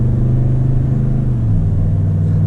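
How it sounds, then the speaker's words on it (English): A Toyota Tundra V8 truck with a TRD exhaust drones at steady cruising speed, a loud, deep exhaust tone that holds level and then shifts pitch slightly partway through, with no voices. "This V8 engine paired with the TRD exhaust system sounds great."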